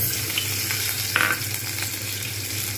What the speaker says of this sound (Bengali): এর মধ্যে দিয়ে দেবো এবারে একটু রসুন বাটা